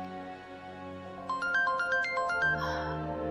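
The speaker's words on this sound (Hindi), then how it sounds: "अभी मुमताज आंटी का फोन आ रहा है।" A mobile phone ringtone plays a bright melodic pattern of repeated electronic tones, starting after a quiet stretch of room ambience and ringing on through the end, with no one talking.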